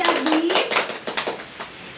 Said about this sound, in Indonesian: Tepuk tangan buat Susanti.